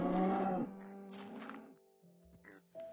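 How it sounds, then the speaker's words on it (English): Cows in the Minecraft video game moo in a few drawn-out, close calls, one after another with short gaps, mixed with a brief pig-like grunt and no speech over them. "everyone's yelling at the cow to move"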